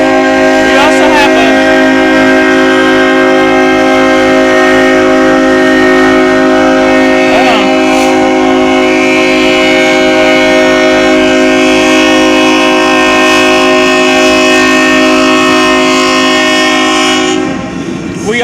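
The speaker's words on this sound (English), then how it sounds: "comes the UP train" Union Pacific manifest freight train rolling past into a south yard, with a loud sustained multi-tone horn blast and steady wheel rumble and clatter close by for the full length, and a voice heard briefly.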